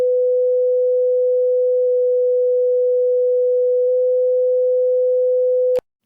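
A synthesized note from homemade additive sine-wave synthesis code, a pure steady tone held loud and unchanging for nearly six seconds before cutting off abruptly with a faint click.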